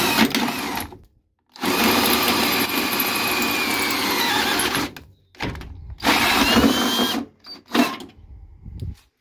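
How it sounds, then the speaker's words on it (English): A 20 mm hole saw drills into the metal body of a Vespa during an EV conversion, with two long whining, squealing bursts of the spinning tool cutting through the panel and short quiet pauses between runs. "And so now I just need to use my 20 mil hole saw"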